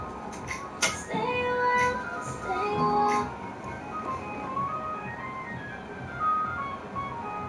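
An ice cream van plays its chime, a thin tinkly melody of bright repeated notes drifting at moderate distance over a steady outdoor background hum.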